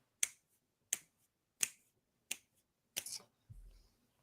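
Five crisp finger snaps ring out one after another at a steady pace, close and sharp, followed by a soft low thump.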